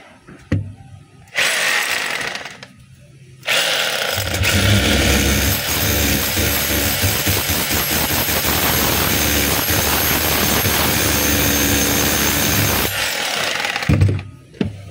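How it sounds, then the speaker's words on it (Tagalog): DeWalt D25032 rotary hammer drill running after a spindle, brass holder, lever and O-ring replacement, loud and close with a steady buzzing, hammering roar through most of the clip and a short burst near the start. "naka-drill po yan. Nakalagay sa drill yan."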